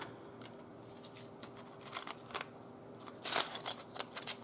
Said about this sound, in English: Here are some keys.